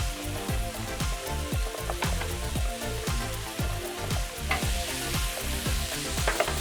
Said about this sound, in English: Hit that with a little bit of oil. And then we'll start in with those onions.